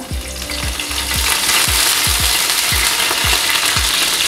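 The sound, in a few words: curry leaves sizzling in hot coconut oil in a pan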